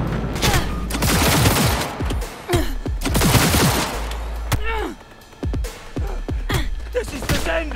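Rapid bursts of gunfire from Cyberpunk 2077 crackle loud and close in dense volleys with brief pauses, a voice speaking over parts of the firefight.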